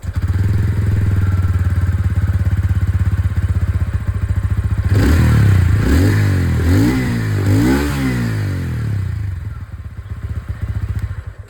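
A TVS Ronin 225 motorcycle engine idles steadily, then revs hard several times in quick rising and falling bursts before settling back to a loud, close idle, with no speech.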